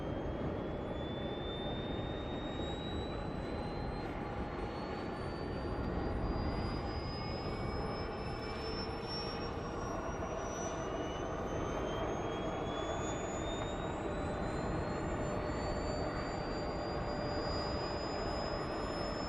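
Avro Vulcan bomber jet engines spool up at RAF Elvington, a loud roaring rush with whining tones that climb steadily in pitch as they whir into life, sustained and close.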